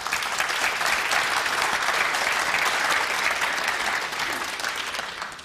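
Spectators at a pool match applaud a shot, dense sustained clapping from an indoor crowd at the World Cup of Pool finals, steady and fairly loud, then tapering slightly at the end.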